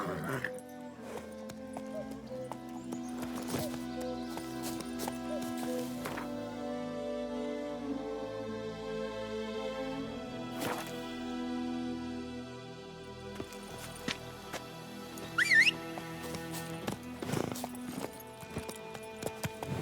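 Roach, Geralt's horse in The Witcher 3, moves along with steady hoof clip-clops under a sustained musical tone, with talk and a brief whinny-like sound partway through.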